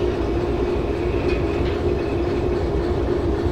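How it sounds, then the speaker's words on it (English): A locomotive coasts along rails in the train simulator game Derail Valley, a steady close rumble with rhythmic wheel clatter and a faint squeal, no talk. "Now we're kind of letting the locomotive drift."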